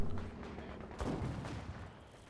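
Mortar pit firing in Company of Heroes 2 amid a busy battle, a dense layer of gunfire crackle with a heavier burst of explosions in the middle, steady and fairly loud with no talk.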